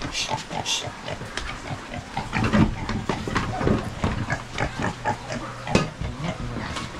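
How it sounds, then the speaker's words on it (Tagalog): A pig at feeding time grunts and oinks repeatedly at close range, with clattering and sloshing of food, while a person talks over it. "Mangagat yung baboy na to."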